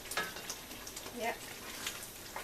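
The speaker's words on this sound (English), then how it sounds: "So you just have to keep on simmering like this for the next maybe 15 minutes" A pineapple and palm sugar curry made with coconut cream simmers in a pot, giving a soft, steady sizzle and bubbling with light stirring, heard close and alone.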